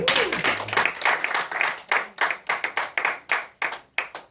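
A church congregation clapping together at a prayer vigil, loud rhythmic claps that start as a dense wash of applause and settle into distinct, evenly spaced beats, with faint cheering mixed in.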